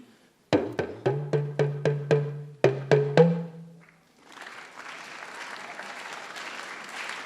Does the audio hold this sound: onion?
no